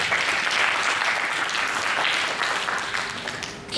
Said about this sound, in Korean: 네, 박수 주세요.